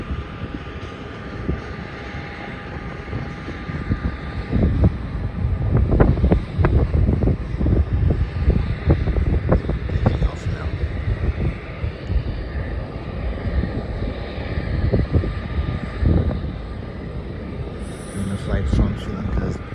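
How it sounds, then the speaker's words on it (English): A Qantas Boeing 737 jet departs from a runway at Melbourne Airport, a broad roaring engine rumble swelling and lingering under heavy wind buffeting on the microphone, heard from a distance. "a flight to Brisbane is departing another Qantas Boeing 737 to Brisbane"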